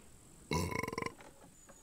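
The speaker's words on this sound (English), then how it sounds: "he just burped all up in the mic, son" A man lets out a loud, close burp right into the microphone, a rough pulsing croak lasting about half a second before fading to quiet.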